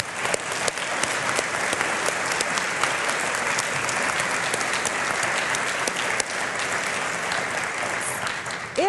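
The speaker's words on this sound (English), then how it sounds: "I want the audience to join me in giving you a round of applause." A crowd at a tourism organisation's annual meeting applauds steadily and loudly, dense continuous clapping that holds at an even level throughout.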